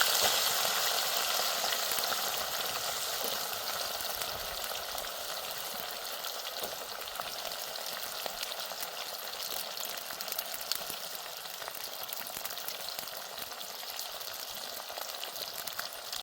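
Steady, dense sizzling of cut potato pieces frying in hot oil, a constant crackling hiss with faint pops throughout, close by and without talk.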